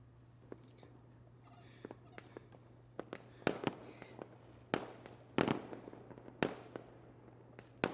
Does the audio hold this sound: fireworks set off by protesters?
yes